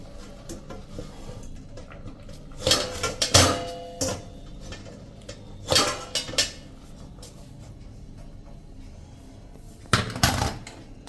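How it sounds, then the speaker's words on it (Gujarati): Metal steamer plate of dhokla lifted out of a steamer in a home kitchen, giving a few separate clanks and scrapes in three short bursts over otherwise quiet room tone. "ગેસ બંધ કરી દેશું અને આ પ્લેટને આપણે બહાર લઈ લેશું"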